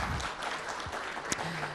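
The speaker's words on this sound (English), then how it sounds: "Let's have another round of applause for Baichung Bhutia." An audience at a live conclave in New Delhi claps steadily for Indian football great Baichung Bhutia, a dense, even wash of applause with no talking.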